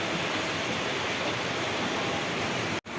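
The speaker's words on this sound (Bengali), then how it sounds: "দেখুন কিরম বৃষ্টি হচ্ছে, দেখেছেন?" Heavy rain falls as a dense, even hiss that fills the whole stretch, with a brief drop near the end and no voices.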